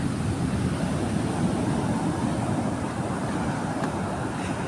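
Ocean surf roars steadily with a continuous wash of large breaking waves, loud and close, on the shore at Paratong Norte, La Union, with wind rumbling underneath and no voices.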